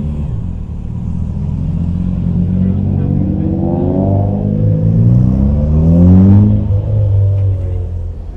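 A Ford Fiesta drives out of a car meet at a cafe, its engine rumbling close by and rising as it revs and pulls away, with people talking over the engine noise.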